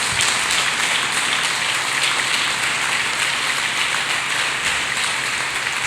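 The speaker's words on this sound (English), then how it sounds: "Clap hands for Jesus Christ." A church congregation claps together in a continuous, dense wash of hand claps, steady and fairly loud throughout, with no speech on top.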